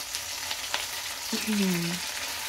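Chicken fries with curry leaves in a pan, giving a steady soft sizzle with a few stirring clicks. A brief tonal squeak rises near the end.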